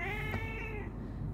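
A marbled cat meows loudly and drawn-out in the morning, a close, clear wavering cry that fades after about a second.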